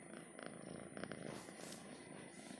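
A cat in the Toca Boca video game purrs in a soft, continuous rumble with faint rhythmic pulses, steady and close throughout with no speech.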